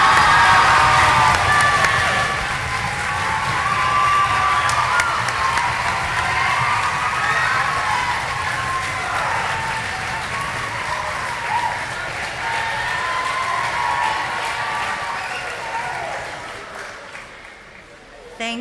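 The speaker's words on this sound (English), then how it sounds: "Now you can give her a clap." School students at an end-of-year closing celebration applaud and cheer, a long loud wash of clapping mixed with shouts and whoops that slowly eases before cutting off.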